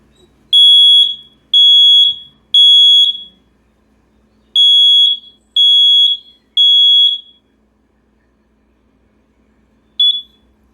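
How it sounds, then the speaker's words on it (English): Older kitchen combination smoke and carbon monoxide alarm under test, giving three loud, piercing beeps, a pause, another three identical beeps, then one short final chirp, with near silence between. "We have the kitchen smoke detector plus carbon monoxide alarm."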